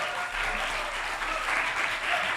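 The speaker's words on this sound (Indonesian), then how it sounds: "Boleh tepuk tangannya untuk kedua finalis speech competition kita" An audience at a speech competition gives steady applause for the two finalists, a continuous wash of mid-volume clapping with no break over a couple of seconds.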